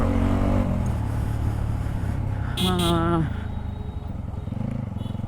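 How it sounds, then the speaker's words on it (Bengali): A motorcycle being ridden on a road, a steady engine drone with traffic around it and a short horn toot partway through, continuous and fairly loud throughout. "বাইকের ক্লাচটা বেশ প্যারা দিতেছে"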